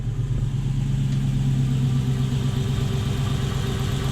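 Toyota 1UZ V8 in a hotrod idling smoothly, a steady, low, throbbing rumble that holds close and even throughout with no voices.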